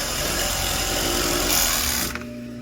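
A Yamato overlock sewing machine, fresh from a repair, runs at a steady high-speed whir for about two seconds, close and loud, then stops abruptly, leaving a faint hum.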